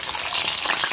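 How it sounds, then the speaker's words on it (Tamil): Eggplant sizzles in hot oil in a pan, a dense, continuous crackling hiss heard up close with no voices. "இதை இந்த எண்ணெயில் போட்டு வதக்கிக்கிறலாம் வாங்க"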